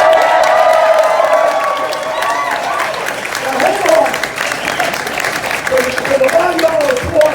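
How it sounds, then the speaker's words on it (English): A rally audience claps and cheers in a sustained wash of applause, with whoops and a few voices rising through it, and a brief spoken remark near the start. "There's a lot of y'all are applauding"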